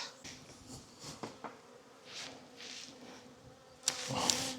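Honey bees drone steadily around an open beehive during a June inspection, a faint, continuous buzz that swells louder near the end.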